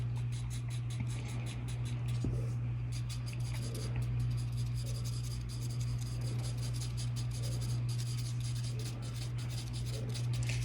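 Charcoal rubbed and smudged lightly across paper, a soft continuous scratchy rasp of drawing strokes that stays close and steady throughout with a low constant hum beneath.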